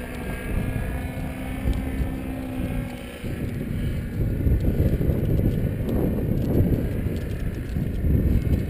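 A paramotor engine droning steadily in flight during a training flight, a loud continuous buzz mixed with heavy wind rush over the microphone, with no talking.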